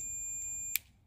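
A continuity tester gives a steady high electronic beep while probing the pins of a three-prong on-off LED rocker switch, the tone ending abruptly with a sharp click from the probes.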